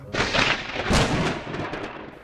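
Thunder from a storm, a broad rumbling roar that swells at the start, peaks again near the middle and slowly rolls off, loud and alone with no voices.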